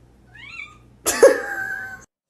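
A cat gives a faint short meow, then a louder, rougher meow-like cry about a second later, close and alone in a quiet room.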